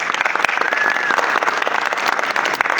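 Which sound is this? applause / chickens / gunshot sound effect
applause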